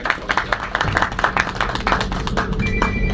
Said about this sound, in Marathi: त्यांच्यासाठी एकदा जोरदार टाळ्या होऊन द्या